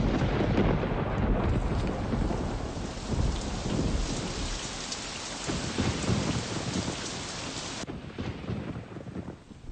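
Heavy rain pours steadily during a stormy night while deep thunder rumbles and rolls underneath, a dense continuous wash of sound with no voices.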